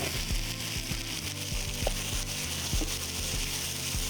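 Vegetable florets sizzle in a hot cast iron pan, giving a steady close hiss with occasional pops and light clinks.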